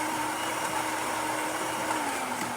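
A Gaggia Accademia espresso machine, fitted with a new pump, pulls a single shot: a steady, loud pump drone with a constant hum that runs alone throughout.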